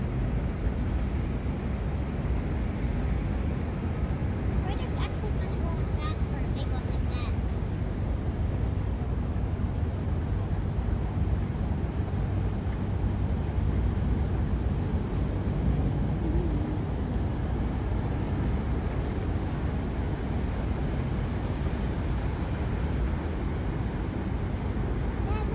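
Engines of the Great Lakes freighter Mesabi Miner passing close on the Detroit River, a steady low rumble with a broad wash of wind and water noise that holds evenly for the whole stretch, with no speech over it.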